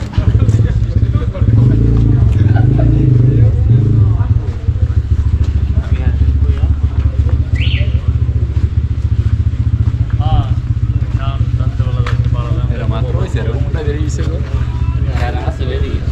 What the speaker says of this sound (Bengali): এতক্ষণ শুধু মোটরসাইকেলের এবং এক্সস্টের শব্দ শুনছিলেন